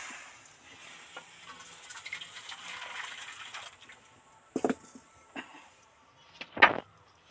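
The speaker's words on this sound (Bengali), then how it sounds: "সেই জন্য গরম জলটা ঢেলে নিচ্ছি" Hot water is poured into a wok for a vegetarian soybean fish-style curry: a faint hiss and swish builds, then a few sharp knocks and splashes stand out against otherwise quiet surroundings.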